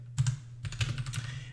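Typing on a computer keyboard while entering a git commit command in Git Bash: two short bursts of close, crisp keystrokes separated by a brief pause, with no talking.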